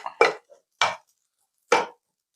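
Kothu parotta being chopped in a pan, with three sharp, separate metallic strikes spaced unevenly and heard close up with nothing else around them.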